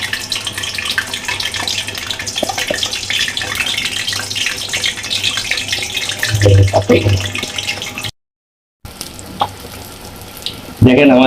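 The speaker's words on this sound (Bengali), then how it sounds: "এখন এরা ভাজবে, বাদামি কালার আসলেই আমরা এটাকে উঠায় ফেলবো।" Jalebi batter spirals fry in hot oil with a loud, continuous sizzle and bubbling, briefly cut off before resuming with clinks of a utensil.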